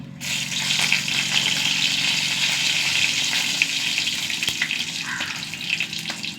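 Dried red chillies and mustard seeds frying in hot coconut oil, a continuous close crackling sizzle that holds steady throughout with no voices.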